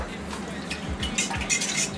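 Drained lamb rib juices being stirred into barbecue sauce, quick wet sloshing and clinking of a utensil against a bowl in a short close burst.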